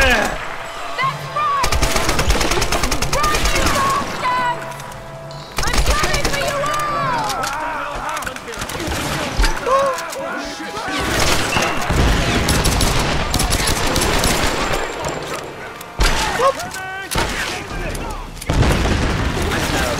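Grenade launcher fire and explosions in the Tomb Raider video game, with loud booms and bursts of gunfire repeating throughout, mixed with game sound and someone talking over the action.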